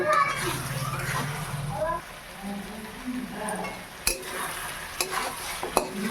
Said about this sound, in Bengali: এবার দিয়ে দেবো। ভালো করে কষিয়ে নেব।